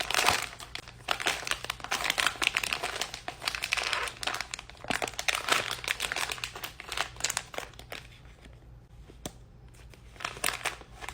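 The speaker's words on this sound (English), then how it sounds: "I'm opening a brand new pack of makeup wipes for this" A brand-new pack of makeup wipes is opened close up, with crisp crinkling and rustling plastic that comes in bursts, then thins to scattered crackles toward the end.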